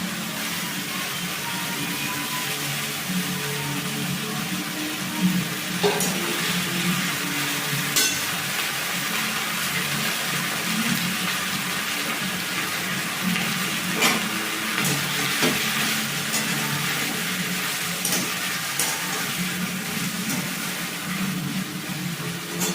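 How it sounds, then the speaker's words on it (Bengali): Chicken and jute leaves are stir-fried in a pan with some liquid, giving a continuous loud sizzle broken by occasional clicks and scrapes as the mix is stirred and turned. "ভালো করে কষবো, যতক্ষণ জলটা আছে ভালো করে একটু নেড়ে চেড়ে নেবো"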